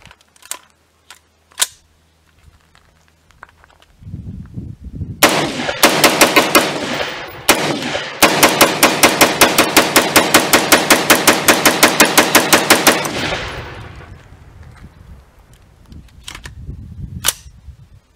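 A Daniel Defense DDM4 V11 rifle on an outdoor range empties a 32-round magazine: a few single shots, then a rapid, loud, evenly spaced string of gunfire that ends abruptly, followed by scattered clicks.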